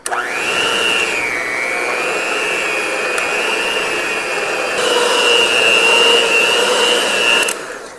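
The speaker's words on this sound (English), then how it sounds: "let's mix this together" Ingredients being mixed together produce a loud, steady whirring drone that starts abruptly, holds almost level for about seven seconds, swells slightly near the end, then cuts off.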